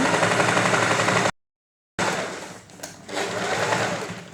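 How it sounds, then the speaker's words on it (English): Sewing machine back stitching a blouse seam with lining, a loud steady whirring run that cuts out abruptly, then resumes after a short silence with rougher, uneven stitching. "So remember to always back stitch."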